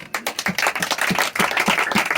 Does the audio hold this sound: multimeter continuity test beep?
no